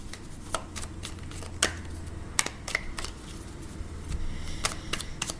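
Tarot cards being shuffled and drawn, sharp scattered snaps and flicks of card stock at uneven intervals over a low steady room hum, close and fairly quiet, with no speech.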